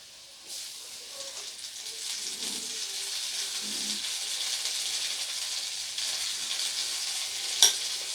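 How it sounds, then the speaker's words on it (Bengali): Vegetables and mustard paste frying in a pan for a Bengali prawn and taro stolon dish, a steady soft sizzle with faint stirring scrapes, no one talking. "এবারে সব কিছুকে খুব ভালো করে একসাথে কষিয়ে নেব।"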